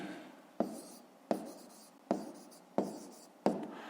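A pen or chalk marks down a fifth-grade math answer in five sharp, evenly spaced strokes, each a crisp scratch that fades quickly, close and clear with no voices.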